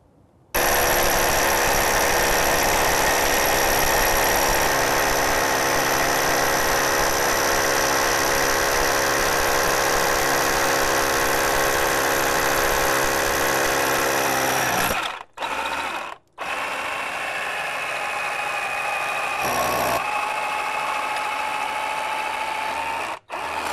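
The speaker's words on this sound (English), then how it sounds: "now I've finished drilling the hole" A loud, steady power drill grinds continuously through a brick wall for around fifteen seconds, then stops and restarts in shorter bursts with brief pauses between them.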